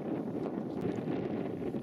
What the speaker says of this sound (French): Le vent de la plaine pour terminer cette rando.